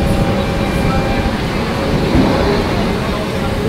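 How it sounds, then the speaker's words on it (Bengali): Down Budge Budge local commuter train running into a Kolkata-area station, a continuous loud rumbling roar of wheels and carriages filling the whole moment with no pause. "দেখুন আরেকটা টাউন ট্রেন ঢুকছে"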